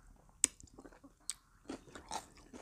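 Someone bites into a shrimp tail and chews, giving a sharp crunch followed by quieter intermittent crunchy chewing sounds, close to the mic.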